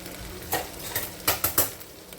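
Sabudana khichdi with lemon juice is stirred in a pan, a handful of quick scraping, clinking strokes against a faint sizzle, close and clear, with no talking.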